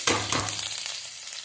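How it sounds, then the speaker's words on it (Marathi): Mustard seeds, cumin and green chilli hit hot oil, giving a brief sharp crackle and sizzle that quickly settles into a soft, fading hiss. "आता तेलामध्ये मोहरी टाकायची, नंतर जिरे टाकायचे, नंतर हिरवी मिरची टाकायचे"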